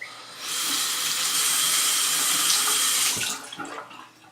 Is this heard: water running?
yes